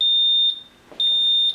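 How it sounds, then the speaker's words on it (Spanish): A Honeywell security alarm sounds its entry/exit-delay countdown: a clear, steady high-pitched electronic tone plays in two long beeps separated by a short gap, close and loud, with no voices. "Y aquí tendríamos el conteo y el pitidito, que serían 30 segundos."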